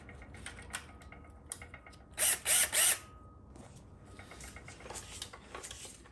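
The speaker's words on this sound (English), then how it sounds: "Thread in your 10 millimeter bolt." A ratchet threads a 10 millimeter bolt into a GM TH400 transmission, giving a short run of quick clicking in three loud bursts over faint mechanical clatter and background noise.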